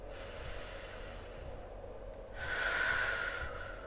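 A slow, steady inhale through the nose during a rib mobility exercise, preceded by quiet breathing and swelling to a soft airy hiss, close and alone.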